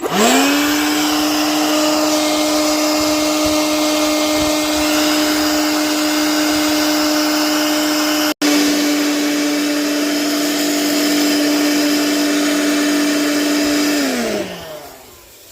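A homemade dual-heat-source coffee roaster runs its cooling fan over a batch of freshly roasted beans, giving a loud, steady motor whine with one brief dropout. The whine winds down near the end.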